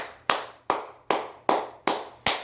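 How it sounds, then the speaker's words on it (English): In a classroom, six sharp, evenly spaced claps ring out about once every 0.4 seconds, each with a short echoing decay, loud and close, without speech. "Round of applause. Clap."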